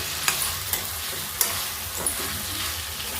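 A spoon stirs a tomato, potato and egg curry in a pan over a steady soft sizzle, with several sharp scraping strokes against the pan at irregular intervals.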